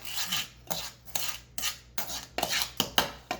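Coconut cream pie ingredients are mixed in a bowl with rhythmic scraping strokes, about a dozen rasping passes of the utensil against the bowl, close and fairly quiet, with no talking.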